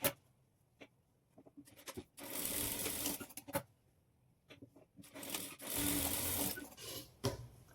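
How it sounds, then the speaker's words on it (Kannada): A sewing machine stitches a blouse dart in short bursts of fast, buzzing needle action, broken by quiet pauses and small clicks as the fabric is adjusted. "ಎರಡೂ ಸೈಡು ಒಂದೇ ಬೆಳ್ತಿಟ್ಕೊಂಡು ನಾವು ಈ ಡಾಟನ್ನು ಸ್ಟಿಚ್ ಮಾಡ್ಕೊಳ್ಬೇಕು."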